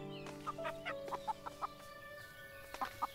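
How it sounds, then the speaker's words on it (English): Chicken clucking in the cozy farming game Everdream Valley, a run of short, soft clucks and bursts spaced irregularly over steady game music, fairly faint and with no talk. "I hear chicken."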